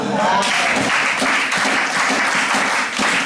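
A church congregation applauds and acclaims the Lord, a loud, dense, continuous wave of clapping filling the hall, with cheering voices mixed into the applause.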